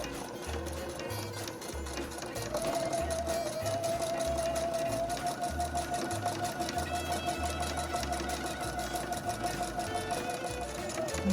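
A sewing machine stitches Christmas napkins, running with a steady, rapid mechanical whir and rhythmic needle chatter close by, getting a little louder after a brief start.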